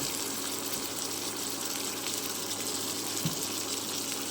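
Water trickling and splashing steadily into a pan of hilsa fish curry gravy, a small amount poured at close range, even and continuous with no talking.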